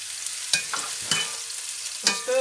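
Onions, leek and garlic frying in a pan, a steady near sizzle broken by three sharp clinks of a stirring utensil, with no talking.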